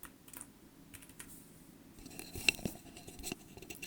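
A temporary password typed on a computer keyboard in quick, irregular bursts of close, crisp key clicks, fairly quiet overall, with a few louder taps near the end.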